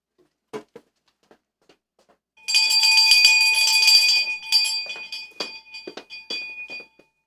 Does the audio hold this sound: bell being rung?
yes